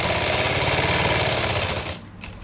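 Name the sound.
sewing machine stitching elastic on dhoti salwar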